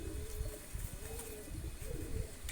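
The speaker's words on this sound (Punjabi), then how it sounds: "ਬਾਕੀ ਆ ਪਏ ਨੇ ਕਬੂਤਰ ਵੀਰੇ" Flying pigeons coo softly and repeatedly, layered over a steady noisy background with low rumbling.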